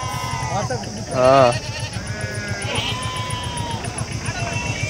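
Goats bleat up close at a livestock market, one loud drawn-out cry standing out among shorter calls, over a rhythmic background clatter with people talking nearby.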